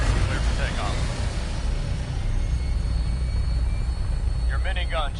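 Aircraft engine in Fallout 4 spinning up for takeoff, a steady, loud low roar that holds throughout, with voices speaking briefly at the start and end.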